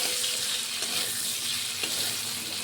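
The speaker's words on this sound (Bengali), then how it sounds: "এখানে আমরা আলুগুলো ভেজে তুলে নিলাম একটা পাত্রের মধ্যে" Potatoes frying in a pan for a shrimp curry give off a loud, continuous close sizzle with occasional faint stirring movements and no talk.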